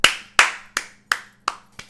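Six sharp hand claps, close and evenly spaced, a bit faster than one every half second, each decaying quickly, with no talk.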